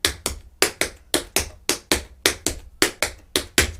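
Tap shoes strike the floor in a beginner routine of stamps and back flaps, sharp close percussive hits in an even, steady rhythm of about three per second, heard alone.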